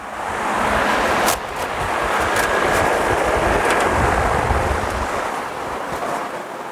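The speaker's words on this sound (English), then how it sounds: "I'm going to have to move my fan. It's actually blowing away my argon." An electric fan blows in a hot welding shop, giving a loud, continuous, rushing roar of air close to the microphone with small gusty fluctuations throughout.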